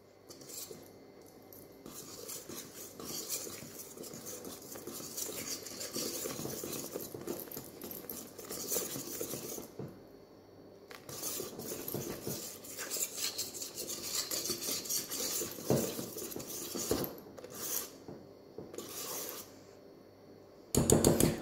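A utensil scrapes and taps around a bowl while chocolate muffin batter is mixed, a steady patter of clinks and rubbing strokes with brief pauses, close and moderately loud throughout.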